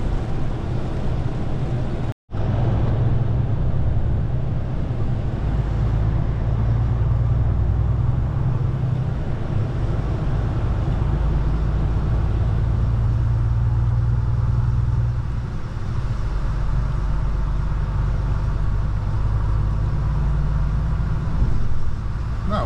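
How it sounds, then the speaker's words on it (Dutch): Truck driving onto the motorway toward Hungary, a steady low engine and road rumble holding level throughout, with only a brief dropout near the start. "En dan draaien we zo weer de autobaan op naar Hongarije."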